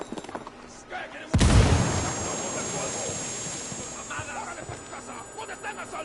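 Frag grenade explosion in the video game Ghost Recon Wildlands: one loud, close boom bursts in sharply after quiet voices, then decays into a long rumbling tail with debris and scattered noise, with talk faintly around it.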